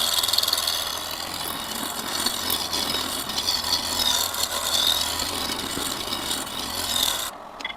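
A sharp gouge cuts a spinning wood blank on a wood lathe, giving a steady close rushing scrape over the motor's low hum, running nearly unbroken and cutting off at the end with no talking.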